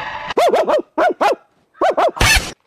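A dog barks sharply and close by in three quick clusters of two or three barks each, separated by short pauses, ending with a harsher, noisier bark.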